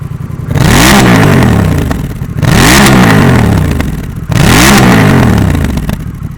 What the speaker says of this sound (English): Now, I'm gonna really rev it up and see how loud it gets.